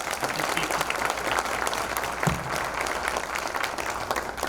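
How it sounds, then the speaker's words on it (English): An audience claps steadily for a speaker at a talk, a dense, even wash of applause held at moderate loudness throughout, with a faint voice briefly heard beneath it. "let's all give him a round of applause."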